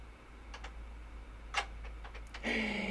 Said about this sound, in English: You guys are hearing a little clicking sound